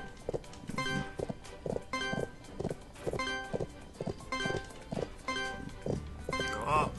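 Hooves clip-clop in a rhythmic trot through a Bibi & Tina horse farm video game, steady and fairly close, with game music and sound effects layered over the footfalls.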